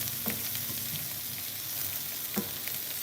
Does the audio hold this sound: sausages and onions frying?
yes